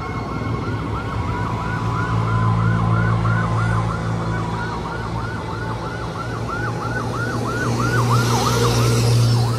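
Several fire truck sirens responding to a fire near a bridge in the Binondo area, wailing continuously and overlapping, fairly loud over a constant traffic rumble with no speech.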